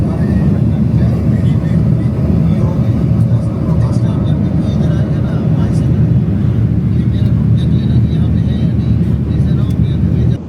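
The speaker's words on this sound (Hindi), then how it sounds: "जहाज़ हवा में है, तकरीबन 30-35 हज़ार फीट अबाव द स्काई है" Steady, loud broadband rumble of a jet airliner cabin cruising at about 30,000 to 35,000 feet, a continuous low roar with constant engine drone and no pauses.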